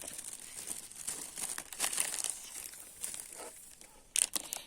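Wrapping paper on a gift crinkles and rustles close up as it is opened, in uneven soft bursts with a louder crackle near the end, with no voices.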